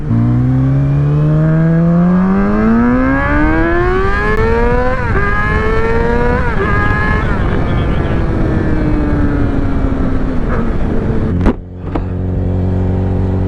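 A Yamaha R6 street fighter motorcycle accelerates hard in first gear, engine pitch climbing through loud, close revving before an abrupt drop near the end.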